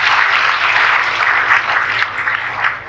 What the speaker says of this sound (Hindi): ताली बजाए खुद के लिए।